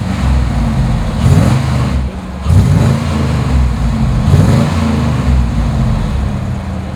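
A 1998 lowrider 3500 dually crew cab pickup with a big motor drives down the road, its engine a steady low rumble with road noise and a few swells of acceleration throughout.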